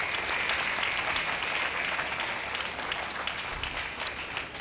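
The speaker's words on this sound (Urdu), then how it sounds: "تو میں چاہوں گا ایک دفعہ پھر فادر پال سیگر کے لیے بھی زوردار تالیاں بجائیں گے۔" An audience at a Catholic church coronation ceremony for Mother Mary applauds Father Paul, a sustained, even roar of many hands clapping throughout.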